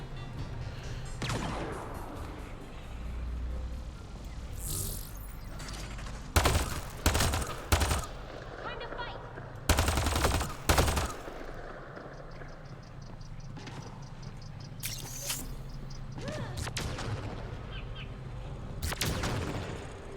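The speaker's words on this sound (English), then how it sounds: "Somebody's taking pot shots at us, but I can't see him." Scattered gunshots from an unseen shooter crack out in tight bursts of three or four sharp reports, with single shots between, over a constant low rumbling background.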